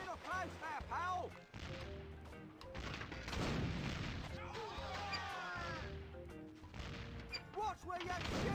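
Cartoon gunfire in The Curse of Monkey Island rings out as sharp bangs and booms mixed with game music and character voices talking over the shots.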